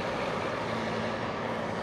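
Heater fan on a Porsche 914 with an LS3 swap runs at low speed, a steady broadband whir with a faint low hum, constant and fairly close throughout, no talking.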